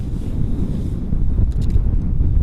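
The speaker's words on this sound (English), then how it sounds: "It's windier than I thought it was going to be today." Strong gusty wind buffets a fishing boat on a big lake in fall, a loud continuous low roar of wind across the microphone with faint water sounds and no speech.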